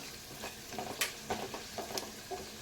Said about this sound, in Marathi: मोहरी तडतडली की त्यात आपल्याला टाकायची मिरची आणि लगेच काजू पण टाकून द्या.